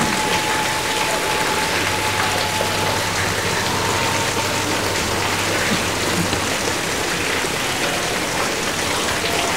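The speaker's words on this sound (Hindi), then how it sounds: "बहुत तेज बारिश पड़ रही है" Heavy rain pours down steadily outside a home with a leaking roof, a loud, dense, unbroken hiss of drops with a faint low hum beneath, continuing without a pause and with no voices.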